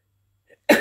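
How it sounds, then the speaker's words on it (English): A single sudden sneeze bursts out close by after a brief faint intake of breath, loud and sharp against silence. "Sorry, that was a sneeze."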